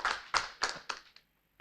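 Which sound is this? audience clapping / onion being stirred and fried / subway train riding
audience clapping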